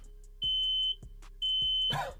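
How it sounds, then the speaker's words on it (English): A smoke alarm goes off after a Pixel 10 Pro Fold phone catches fire, sounding loud piercing electronic beeps in two long bursts with a rhythmic pulsing underneath, followed by a short rustling noise. "my fire alarm is going off"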